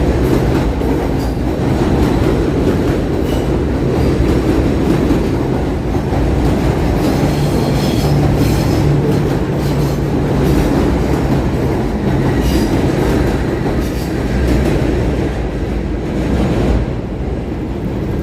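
An elevated subway train on New Utrecht Avenue in Brooklyn rumbles past overhead, a loud, continuous roar of wheels and rattling cars with some metallic squeal, steady for the whole span.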